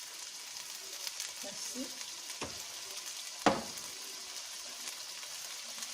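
Pork in tomato sauce simmers in a pan, a soft continuous sizzle and bubble under light kitchen noise, with a sharp clink near the middle and a brief spoken word.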